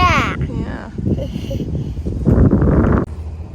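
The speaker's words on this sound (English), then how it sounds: "it's a windy day" Gusty wind rumbles and buffets the microphone steadily in a garden, with people talking over it close by.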